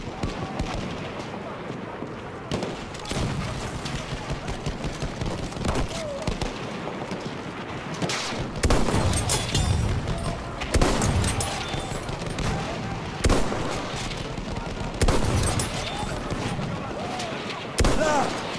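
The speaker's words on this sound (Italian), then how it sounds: "Là! Mitragliatrice nemica!" Enemy machine gun fire in the World War I shooter Battlefield 1 crackles in dense, sustained bursts amid a steady din of battle, with heavier blasts punching through every few seconds; a voice speaks over the gunfire.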